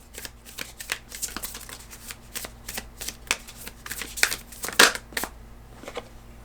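Deck of oracle cards shuffled by hand, a run of crisp riffling flicks and soft slaps with uneven rhythm, close and clear, ending in a brief snap before quieting.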